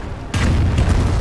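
A loud explosion strikes a base in Company of Heroes, a sudden heavy boom after a brief quieter moment, followed by a sustained low rumble with further thuds.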